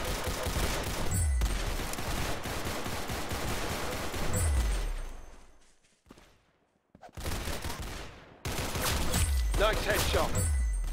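Pistol gunfire in a first-person shooter game, rapid bursts of loud close shots in dense runs, broken by a short near-silent gap and then resuming.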